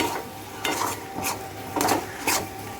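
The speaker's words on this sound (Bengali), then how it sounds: "কিছুটা উপর থেকে সরষের তেল দিয়ে দেবো, দিয়ে ভালো করে নাড়াচাড়া করে" Mashed ridge gourd with mustard oil being stirred in a pan, rhythmic close scraping strokes over a low sizzle, about four passes.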